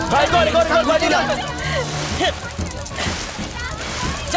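Water is hurriedly thrown from containers onto a shop fire, splashing and sloshing in repeated bursts beneath urgent, overlapping shouting voices.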